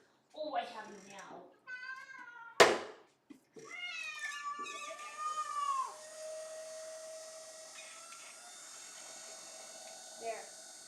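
A pet cat meows and howls in a series of drawn-out, wavering cries near the microphone, with a sharp thump partway through and a voice talking between the calls.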